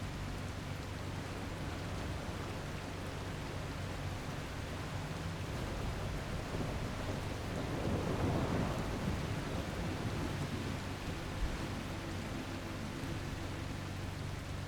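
Storm in the video game The Last Caretaker, a constant broadband hiss of heavy rain with a low thunder rumble swelling midway, no talking.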